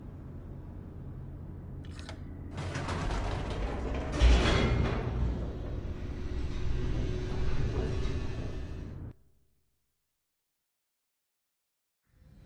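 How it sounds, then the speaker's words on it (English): A mechanical elevator in the video game The Stanley Parable descends with a steady grinding, creaking hum that swells and rattles for several seconds, then cuts off abruptly into silence before a faint sound returns. "there's an elevator. Guess we headed down."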